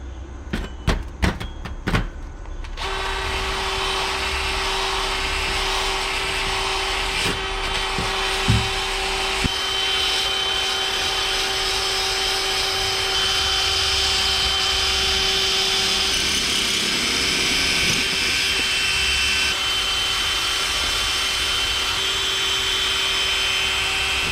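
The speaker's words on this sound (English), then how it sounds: "got our little wire brush here on our handy dandy, almost wore out DeWalt" After a few sharp clicks, a well-worn DeWalt grinder fitted with a wire brush spins up into a loud, steady whine that holds for about twenty seconds, shifting pitch slightly partway through as the brush works, with no speech.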